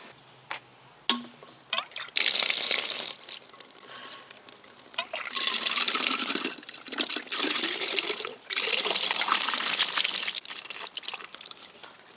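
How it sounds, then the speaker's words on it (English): Spring water from a drinking fountain at Hot Springs National Park runs in steady bursts, a loud close splashing stream that stops and restarts a few times, with brief quieter gaps between. "Oh, is that a fountain?"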